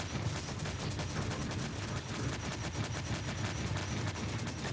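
Weapons barrage in the space strategy game Stellaris, a dense, unbroken roar of rapid-fire bursts and blasts holding steady throughout, fairly faint overall.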